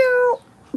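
A human voice imitates a cat's meow, giving one close, drawn-out, tonal meow lasting about a third of a second, followed by quiet and a short noise at the end.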